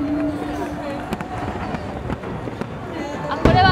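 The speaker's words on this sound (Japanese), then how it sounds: "今ハワイの夜空に長岡の花火が" Nagaoka fireworks crackle and pop in scattered bursts over a murmuring crowd at the Honolulu Festival in Hawaii, with a louder boom near the end and voices talking throughout.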